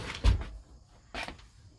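An RV kitchen drawer opens with two short wooden slides and knocks, about a second apart, close and moderately loud in an otherwise quiet interior.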